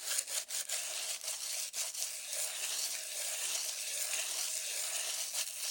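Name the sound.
sanding concrete pot edges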